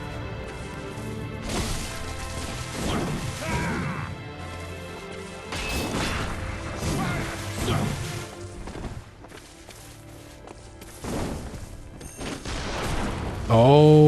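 Gunfire and crashing combat in Bloodborne, heard as a string of sharp shots and heavy impacts spread across the stretch. The bursts are loud and come unevenly, with a voice talking over parts of it.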